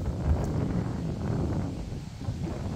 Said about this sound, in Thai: ลมดีมากค่ะวันนี้ลมดีมากค่ะ